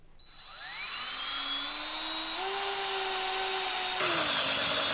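A power drill whines up to speed and keeps spinning at a high, steady pitch, shifting tone a couple of times as it bores holes in a Land Pride rear blade's metal.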